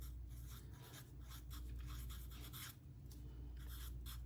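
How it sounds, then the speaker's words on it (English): Hand writing on paper with a pen, a close, soft, continuous scratchy rubbing in short strokes over a steady low background hum. "let me write this down"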